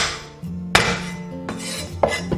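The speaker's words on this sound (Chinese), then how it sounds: "准备几颗大蒜，先拍碎" Garlic cloves are smashed flat under a blade on a cutting board, giving a few sharp, loud whacks spaced about half a second to a second apart, with no voices.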